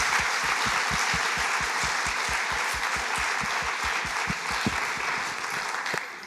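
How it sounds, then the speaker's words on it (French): A seated audience at a Louvre round-table talk breaks into sustained, dense applause, steady clapping filling the room for several seconds before tapering slightly at the end. "Grand applaudissement, Simone Fattal."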